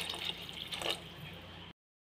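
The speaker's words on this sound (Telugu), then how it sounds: "శనా ఉడకబెట్టిన నీళ్ళు పోసేస్తున్నాం" Chickpea cooking water pours into a pan for chole masala, a faint continuous trickle and splash that cuts off abruptly after under two seconds.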